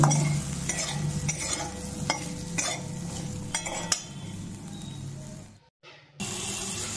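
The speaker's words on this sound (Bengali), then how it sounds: "হালকা ভেজে নেব আমগুলো।" Mango pieces lightly frying in a pan with salt and turmeric for a village-style moong dal, a close sizzle with frequent spoon scrapes and clinks, a brief cut near the end.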